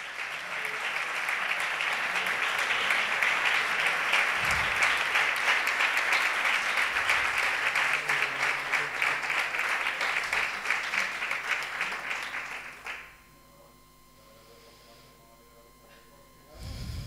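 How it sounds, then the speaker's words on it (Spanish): Sustained audience applause at an award ceremony for guardian angels honorees, a loud, steady clapping that runs for about twelve seconds before cutting off to near quiet, then briefly resuming at the end. "Fuerte aplauso para él."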